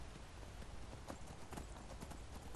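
Horse hooves in Skyrim VR clip-clop in a quick, uneven rhythm, faint and steady, with no voices over them.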